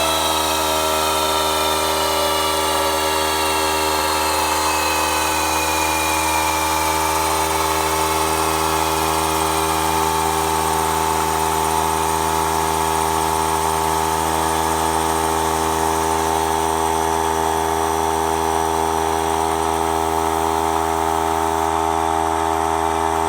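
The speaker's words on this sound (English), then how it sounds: "This is how fast you lose PSI when you hold the trigger down on your air tool." A pneumatic air tool runs nonstop off a Harbor Freight 3-gallon oilless compressor, a steady loud whine with the pitch slowly sagging as pressure drops, the compressor motor humming underneath throughout.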